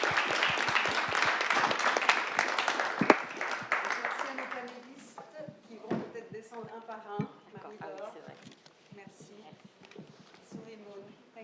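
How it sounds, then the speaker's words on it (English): An alumni reunion audience claps for a discussion panel, a burst of applause that fades after a few seconds as people begin talking over the last scattered claps. "Let's give them a round of applause."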